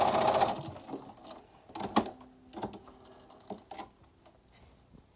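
Sewing machine stitching a short dart in a fabric medical face mask, with a dense whir at the start followed by a series of brief, close mechanical bursts separated by quiet pauses.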